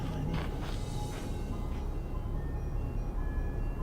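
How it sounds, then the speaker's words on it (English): Faint, distant ice cream truck music drifting through a nighttime campsite, a thin melodic tune sitting far back under steady low background noise. "That's ice cream truck music"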